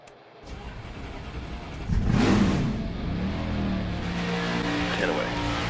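A NASCAR 25 race car engine cranks over and catches, then settles into a steady rumbling idle with a brief rev, close and fairly loud against background ambience.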